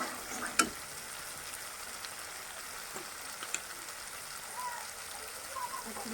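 Shredded cabbage sautéing in a pan with cumin powder, red chili powder and salt: a soft, even crackling hiss like light rain, with an occasional spatula tap and clink.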